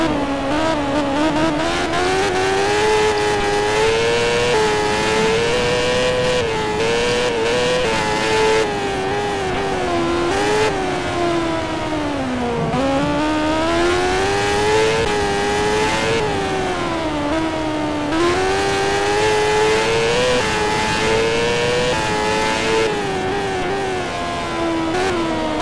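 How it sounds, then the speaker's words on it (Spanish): A Grand Prix motorcycle in the MotoGP 13 racing game screams continuously, its engine note climbing and dropping through gear changes and throttle swells, loud and close throughout with no talking. "¿Me vas a decir que en segunda tarda tanto en arrancar una moto?"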